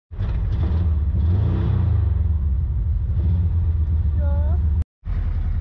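A family camper van's engine rumbles loudly and unevenly as it fails to hold a steady idle, surging and sagging. Its sound cuts out briefly near the end before resuming, with a voice heard over it.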